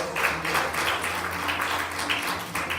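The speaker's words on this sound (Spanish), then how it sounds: "Dale un aplauso grande al Señor." A church congregation claps for the Lord during a Spanish-language sermon, a moderate, fairly distant spread of applause with a low hum running underneath.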